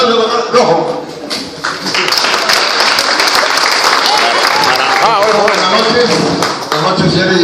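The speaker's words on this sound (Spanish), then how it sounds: "Un aplauso" Sustained, dense applause from an audience at a political gathering, steady and fairly loud throughout with a brief dip partway.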